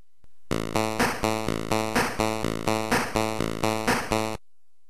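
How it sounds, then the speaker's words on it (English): A steady chiptune bass line of buzzy square-wave notes in the style of vintage consoles like the ColecoVision, alternating between low and high octaves in an even, repeating rhythm, loud and alone. "the notes for the bass sound like this, with an octave variation"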